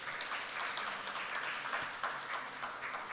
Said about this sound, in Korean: 축사를 해주신 이재원 부시장님께 다시 한번 큰 박수 부탁드리겠습니다.